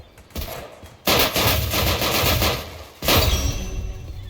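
Rifle gunfire in the Roblox game Weird Gun Game, two loud bursts of rapid shots separated by a short gap, close and sharp with no voices.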